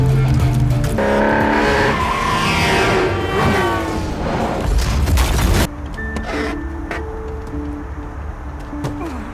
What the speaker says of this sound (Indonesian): Film diawali dengan adegan mobil Porsche merah yang melaju kencang di malam hari.